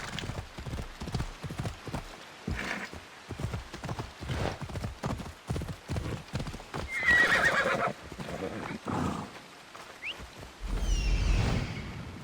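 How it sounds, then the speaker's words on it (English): A horse walking in the video game Assassin's Creed Odyssey, with steady rhythmic clip-clop hoofbeats and a neigh near the end, heard alongside game sounds and a speaking voice. "The horse is walking on."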